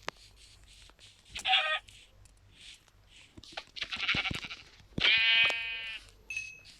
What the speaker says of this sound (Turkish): bir tane koyun bulduk